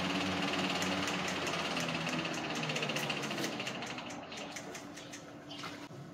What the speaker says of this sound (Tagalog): andar ng fan. Ang lakas.